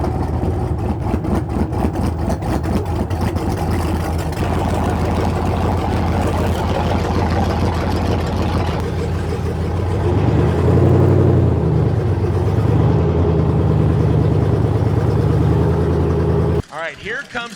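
A drag race car at the Roadkill Nights grudge match fires up and runs loud, a rough rapid idle that shifts into a deeper throbbing roar midway, then cuts off abruptly near the end.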